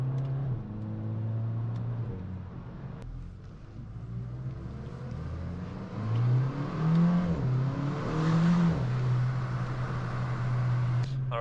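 A rebuilt VW Golf 5 GTI with a DSG gearbox driving on a road, its engine note rising and falling through several gear changes, from a steady hum to louder pulls, heard from inside the car.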